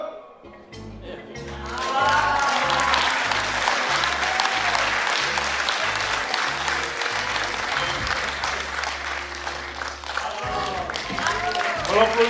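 A live audience breaks into loud, sustained applause that swells quickly and holds for several seconds, with a rhythmic music beat underneath and a voice speaking over the clapping near the end.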